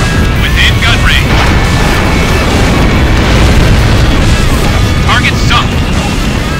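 A target explodes in the jet-combat game Ace Combat Infinity during a co-op battle, a heavy boom swallowed by a loud, continuous roar of engine and wind noise, with faint radio-style voices underneath.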